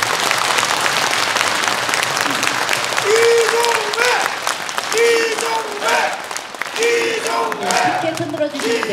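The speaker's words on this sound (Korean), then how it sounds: "열심히 일하라고 큰 박수 한번 보내주십시오" Loud, sustained applause fills a hall at a Korean lawmaker's constituency report meeting, with cheering and shouting voices rising over the dense clapping.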